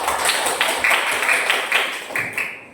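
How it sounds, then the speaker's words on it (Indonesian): Many hands clapping together in a classroom, dense overlapping applause at close range that runs steadily for a couple of seconds before tapering off. "Ya, tepuk tangan."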